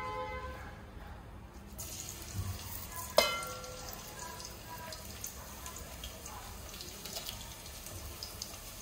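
Fenugreek seeds, cumin and chopped green chillies fry in a pan with a continuous low sizzle, broken by one sharp clink and some faint watery background noise.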